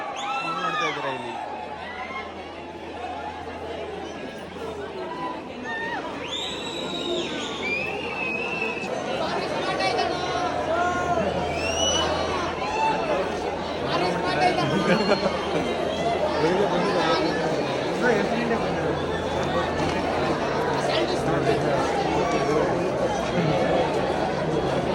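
Dense crowd chatter and babble at a crowded public stage event in Karnataka, with many overlapping voices and occasional louder shouts, steady and close throughout.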